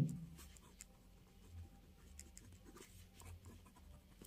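Pen or pencil scratching across paper while a maths solution on triangle heights and distances is written out, a faint, steady, close scraping with small strokes over low room hum.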